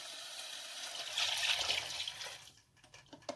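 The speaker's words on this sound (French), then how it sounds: "je viens mouiller à hauteur avec mon eau" Water is poured into a pot of crustacean shells for a bisque, a soft splashing pour that swells briefly, then stops and leaves a few faint clinks and drips, quiet and near.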